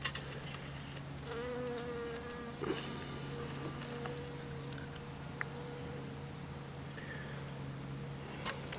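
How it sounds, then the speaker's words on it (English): Honey bees from a sick, mite-infested hive buzz steadily nearby, individual insects droning in and out with occasional light taps and clicks, quiet and without speech. "Put these bees in here."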